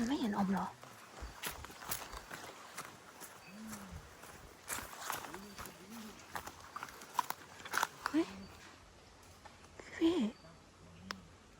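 Footsteps come closer, a series of irregular, fairly faint steps on the ground with quiet voices talking over them.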